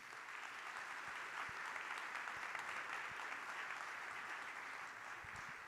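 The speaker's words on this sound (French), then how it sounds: "j'appelle Emeline Baume de Brosse, première vice-présidente de la Métropole de Lyon, à me rejoindre sur scène sous vos applaudissements." An audience at an opening address in Lyon applauds as a metropolitan vice-president comes on stage, with a steady wash of distant clapping throughout and a few closer individual claps.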